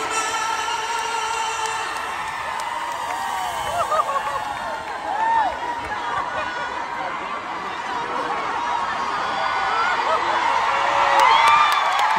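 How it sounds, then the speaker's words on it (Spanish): A large concert crowd on a 2024 tour cheers and applauds in an ovation, a dense, continuous roar of voices and whistles heard from within the audience, swelling near the end. "Toda una ovación, se la merecía"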